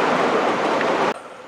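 Rain falls outdoors on Shaw Island as a dense, steady hiss, loud and close, then cuts off abruptly near the end.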